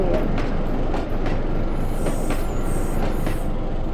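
DEMU train in the Trainz railway simulator game braking to a stop, a loud continuous rumble and hiss of rolling stock with brake noise throughout and no clear speech.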